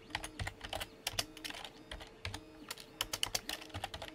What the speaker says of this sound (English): Having a bad time typing today.